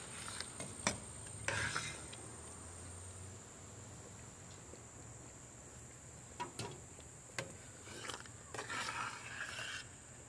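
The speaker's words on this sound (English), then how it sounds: "Stirring so nothing sticks or burns to the bottom." Wild muscadine jam at a full rolling boil is stirred in a pot so it won't stick or burn, giving quiet, soft scraping strokes and faint bubbling with a few sharper spoon taps, close and low in level.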